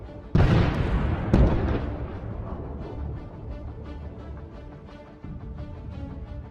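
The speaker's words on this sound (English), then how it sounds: "This T-72 hits the first mine. As it turns around, it hits the second one. Another epic explosion." Two loud anti-tank mine blasts erupt beneath a T-72 tank about a second apart, each a sharp, powerful boom followed by a long rumbling, crackling tail of fire and debris.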